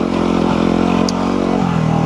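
A Yamaha WR250R dirt bike rides a mildly technical trail in Hopkinton, New Hampshire, its engine droning loud and close in a continuous rumble with slight shifts in revs.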